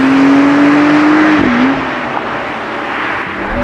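Bi-turbo 3-liter flat-six of a 2020 Porsche 911 Carrera S (992) accelerating, a loud steady drone that briefly dips in pitch as it shifts, then settles into a quieter cruising hum with road noise.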